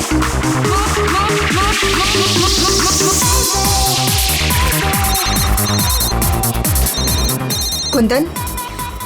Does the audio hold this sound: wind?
no